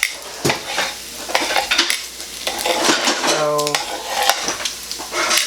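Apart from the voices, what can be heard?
bacon frying in a pan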